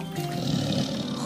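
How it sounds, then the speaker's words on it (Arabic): A tiger roars once, loud and close, in a single sustained throaty growl with no talk over it, as an animal sound in a children's animal-names lesson. "نمر"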